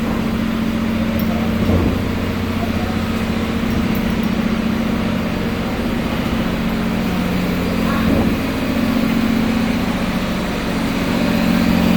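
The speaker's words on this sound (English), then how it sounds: "Engine room." A ferry's diesel engine runs in the engine room with a steady, loud low hum and drone that holds unchanged throughout, a couple of brief knocks rising above it.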